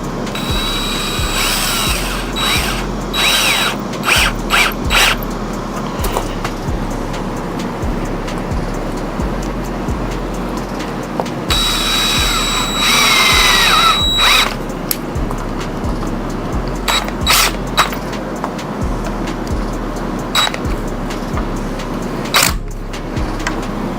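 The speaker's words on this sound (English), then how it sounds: "I do have my trusty DeWalt drill right here" Repeated short bursts of a DeWalt power drill whirring as it installs door hardware, loud and close, in quick on-off pulses over a steady background rush.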